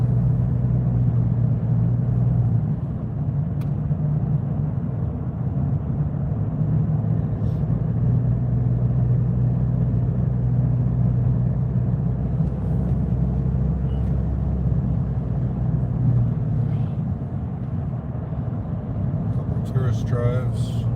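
A car drives along a road in Australia, giving a steady low engine and road rumble heard from inside the vehicle at constant loudness for the whole stretch, with a few faint clicks near the end.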